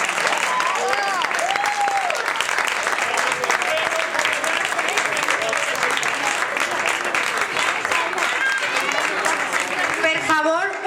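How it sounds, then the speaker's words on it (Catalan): Audience applause at a school end-of-year concert, sustained and loud for about ten seconds with a steady clatter of many hands and some cheering voices mixed in. "un fortíssim aplaudiment per a Maria Àngel"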